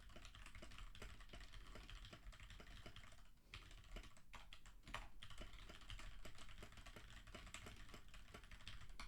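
Fast typing on a QWERTY computer keyboard during a speed test, a dense close patter of key clicks with brief pauses and a few louder strikes.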